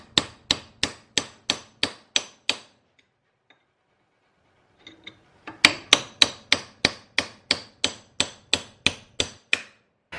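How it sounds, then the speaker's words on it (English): A hammer strikes a metal drift punch to drive out a seized nut. Sharp, evenly spaced blows ring out close and loud in two runs, with a quiet gap and a few faint handling taps between them. "Now I've got a bit of a drift punch sort of thing here, and I'm going to see if I can push this out"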